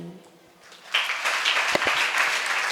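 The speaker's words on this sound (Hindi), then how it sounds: "एक बार जोरदार तालियां बजाकर उनका अभिवादन करेंगे" An audience at a live Jain religious discourse breaks into applause after a devotional bhajan. Scattered hands swell into a steady round of clapping after a quiet start, with a voice talking over it.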